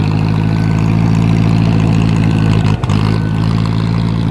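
A 2010 John Deere tractor engine drones steadily and loudly up close while driving, with a brief dip near the end.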